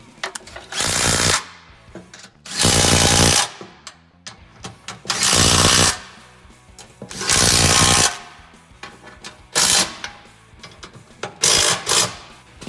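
A power tool tightens the mounting bolts on a 9.5K Smittybilt winch in several loud, close bursts of whirring rattle, each a second or so long, separated by short quiet gaps.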